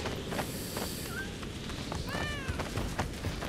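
A cat meows in Divinity: Original Sin 2, a brief rising call over a busy game soundscape with faint clatter and background sounds.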